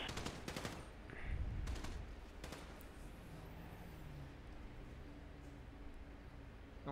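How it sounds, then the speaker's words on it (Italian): Muffled warning shots fired inside a bank during a GTA 5 roleplay robbery, a quick burst of several sharp cracks early on followed by a couple of isolated shots, then quiet background. "Sento spari intimidatori dall'interno, riuscite a sentire anche voi?"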